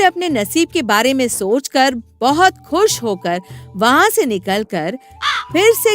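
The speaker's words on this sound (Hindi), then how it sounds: "कौवे काव काव करते हुए सुनाई देते हैं।" Crows caw repeatedly, mixed beneath steady narration in Hindi that runs through the whole stretch.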